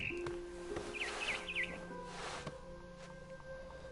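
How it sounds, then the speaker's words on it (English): A barn swallow chirps in What Remains of Edith Finch, a quick run of three or four high bright chirps over a steady low hum and room tone. "Then I heard chirping outside my window"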